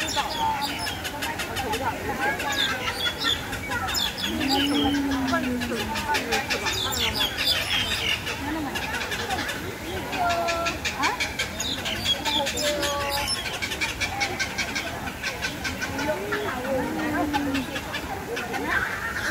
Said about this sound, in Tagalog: Anong klaseng ibon yan? Ang ingay.